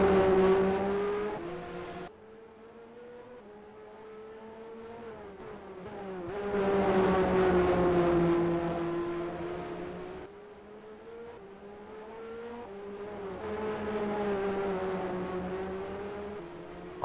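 Race cars lap Spa in a racing video game, several engines droning and shifting pitch as they accelerate and pass, a continuous loud roar that swells and fades over the stretch.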